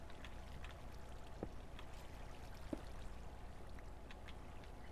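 Steady flowing water in the Minecraft video game, a continuous low wash with faint drips and a couple of brief clicks, moderately quiet and with no talking.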